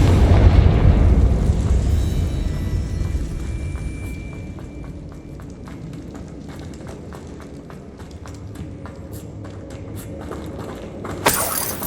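The Confringo fire spell blasts in Hogwarts Legacy with a loud booming burst at the start that fades into a rumbling, crackling tail, then footsteps and a sharp impact near the end.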